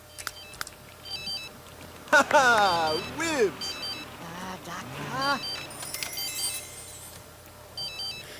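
Telephone ringing in The Sims 3, a looping electronic ringtone of stepped beeps under a voice speaking German, with a short game jingle and other small interface tones.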